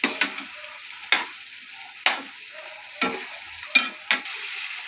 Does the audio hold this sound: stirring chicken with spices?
yes